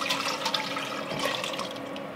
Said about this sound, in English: Pour it in your can, your pot.